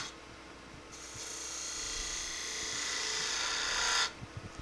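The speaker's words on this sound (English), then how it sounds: "Then I'm going to go to my detail gouge so that I can start working down to where I want to go." A detail gouge carves wood on a repaired F-style clamp, giving a steady, close scraping rasp that builds in loudness for about four seconds, then stops abruptly, followed by a few faint taps.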